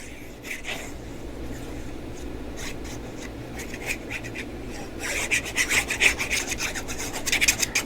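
The cut edge of paper in a handmade dinosaur mini album being inked, a dry rasping rub repeated in short strokes that grow quicker and louder toward the end.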